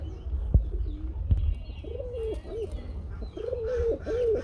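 A pair of native Bengali pigeons coo in close, repeated rolling phrases. A couple of soft knocks come early, and no one speaks over them.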